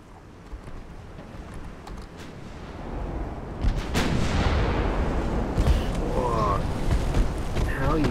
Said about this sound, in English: how are you firing at a target like that?